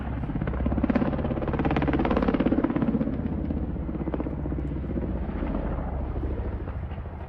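Mi-24 attack helicopter flying in a combat setting, a steady rotor drone with rhythmic blade chop rising and falling slightly, loud and continuous with no talk.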